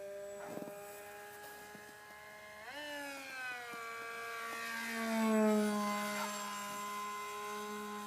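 A small RC airplane motor on a 4-cell battery whines steadily in flight, bogging down, its pitch sliding up and down as it passes, moderately near with no voices.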